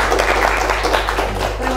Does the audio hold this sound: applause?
yes